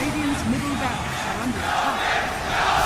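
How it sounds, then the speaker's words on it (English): A large esports arena crowd roars and cheers at a Dota 2 match at The International 2016, a sustained dense wall of voices with shouting rising toward the end. "as you can hear, the crowd understandably very impressed"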